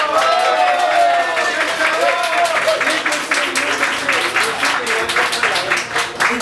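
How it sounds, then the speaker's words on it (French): Clapping from an audience at a staged mock trial fills the room and keeps up throughout. Voices and cheers mingle beneath the steady patter. "Et jugé coupable, on applaudit bien."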